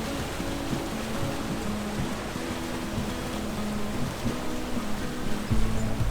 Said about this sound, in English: now runs an old Fordson major diesel engine, which were known to be very reliable at the time